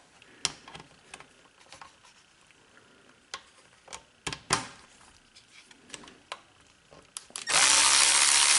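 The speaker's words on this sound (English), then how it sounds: "using a number 4 Allen, there's 2 socket head cap screws on the bottom we'll take off" Socket head cap screws being backed out with a number 4 Allen key on the bottom of a Honda HHT35S trimmer carburetor: scattered sharp metallic clicks and ticks, close and fairly quiet, ending in a loud broadband hiss.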